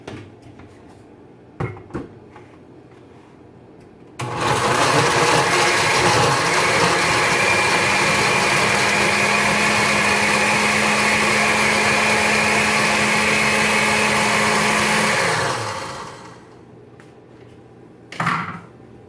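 A kitchen blender runs loud and steady for about eleven seconds, whirring as it purees carrot rice ingredients, with a few brief clicks and knocks before and after.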